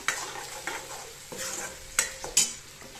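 Ground paste spluttering in hot oil in a pan, a close sizzle broken by sharp crackling pops and stirring scrapes, with a few louder bursts near the end and no voices.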